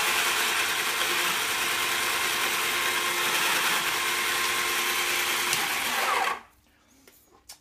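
A small hand chamfering tool works the mouth of a rifle bullet case in a steady close whirring, scraping drone for about six seconds, then stops abruptly and leaves faint clicks.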